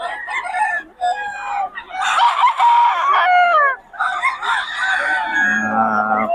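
Young roosters (stags) crow loudly and close by, several overlapping calls running almost continuously, with clucking mixed in and faint voices in the background.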